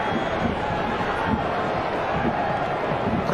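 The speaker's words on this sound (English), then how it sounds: "And a real energy to the crowd as well." Stadium crowd at an MLS football match between Columbus and Miami, a dense, continuous roar of many voices with occasional swells of shouting, steady and fairly loud throughout.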